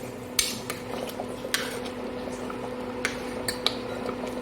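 A spoon stirs shahi paneer gravy with kasuri methi in a pan on a home stove, giving soft scrapes and a few light metallic clinks over a low, steady kitchen hum.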